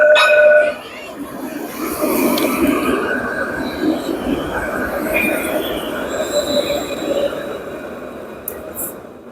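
A train rolls past in a city setting, a continuous rumble with squealing wheels and high metallic tones running steadily for about nine seconds, starting with a louder burst and staying fairly loud with faint voices in the background.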